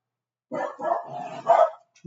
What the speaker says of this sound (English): There's a dog screaming.